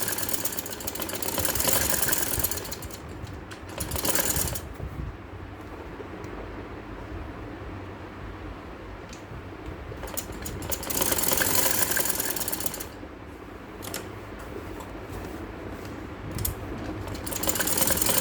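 A sewing machine runs in fast, steady bursts of several seconds each while double stitching a suit, with quieter gaps of handling and fabric noise between the runs.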